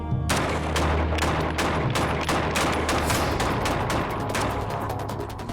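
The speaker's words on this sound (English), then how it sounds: "That's return fire coming back at us. Yeah, they're shooting back." Sustained gunfire during combat in Iraq, with dense rapid bursts and overlapping shots crackling loudly and continuously, incoming return fire mixed with nearby weapons, no pauses.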